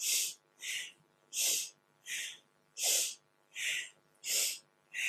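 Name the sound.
deep yoga breathing, inhaling and exhaling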